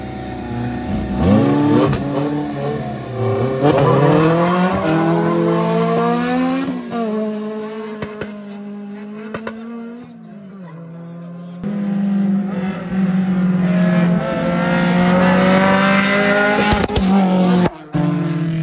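Drag racing cars launch down the strip in a best-of-three race, engines roaring loud and revving up through rising gear pulls, with a second loud run following a brief lull.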